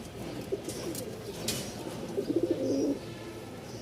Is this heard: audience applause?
no